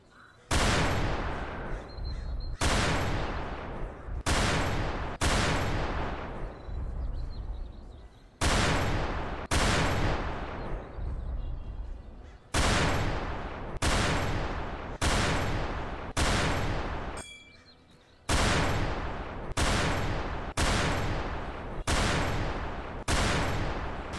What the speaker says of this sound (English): The next gun is the military sniper.